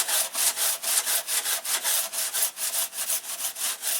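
Brisk, rhythmic back-and-forth rasping of sandpaper on wood, smoothing a glue joint, many quick even strokes close up with no talking.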